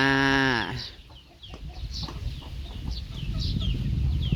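Close-up clucking chickens: a drawn-out squawk opens, then repeated short clucks and chirps from several birds over a low background rumble.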